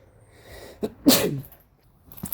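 A single close, sharp sneeze with a quick inhale beforehand, in an otherwise quiet room.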